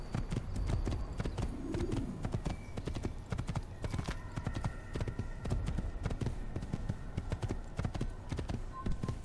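Horse hooves clip-clop steadily and rapidly in the video game Assassin's Creed, close and continuous, with faint background game sounds.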